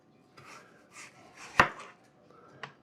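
Apples cut by knife on a board for cinnamon apple chips, a handful of soft slicing strokes followed by one sharp, loud chop and a lighter tap, close and quiet between cuts.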